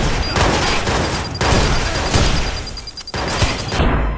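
Grenade blasts and gunfire in the video game Watch Dogs, a steady barrage of loud, dense bursts with brief gaps, the heaviest hits close by.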